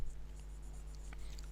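A marker or chalk scratches on a board during an accounting lecture, making faint, short, intermittent strokes over a steady low hum.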